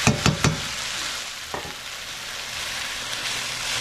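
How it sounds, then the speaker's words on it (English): Chopped onions hit a hot stew pot for green chili stew with a few sharp knocks, then settle into a low, even sizzle as they sweat, with a single faint clink later. "Let those onions sweat a little."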